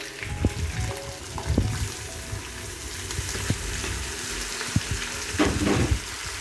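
Tomatoes go into a hot frying pan, a steady sizzle with wet splattering bursts and a few thuds as they land, close and continuous with no speaking.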